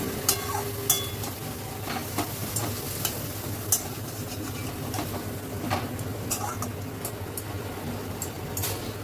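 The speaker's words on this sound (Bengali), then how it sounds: "এবার দিয়ে দিলাম কেটে রাখা গাজর আর শিমটা। আবার সব কিছু ভালো করে মিশিয়ে নিচ্ছি।" Chopped carrots and flat beans are stirred into a fried spice masala in a pan, with a soft steady sizzle and occasional scraping clicks from the utensil, close and moderately quiet.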